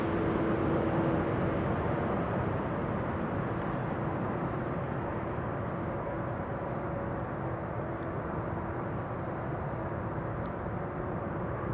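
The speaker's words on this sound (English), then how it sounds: "That's a 787-10 Dreamliner." A Boeing 787-10 Dreamliner at Amsterdam Schiphol airport, a steady distant jet engine roar and hum continuing evenly throughout without talk.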